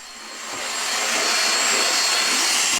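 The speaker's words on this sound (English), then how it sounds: "Repeat the same process, hoover, to ensure all the fibers and dirt and stuff is officially out of there." A vacuum cleaner hoovering out a drawer, the motor swelling from a soft start into a loud, steady whooshing roar that holds until it cuts off abruptly.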